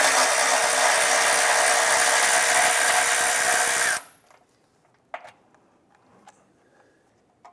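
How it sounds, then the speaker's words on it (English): A power tool spins a 13mm socket on a bolt of a 2015-2020 Cadillac Escalade for about four loud, continuous seconds, then stops abruptly. A few faint clicks and taps follow. "Use a 13mm socket on the bolt."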